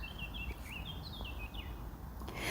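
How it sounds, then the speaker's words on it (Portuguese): A small bird chirps, giving a series of thin, warbling tweets that rise and fall over a steady background noise, moderately faint and without talking. "O passarinho está até concordando"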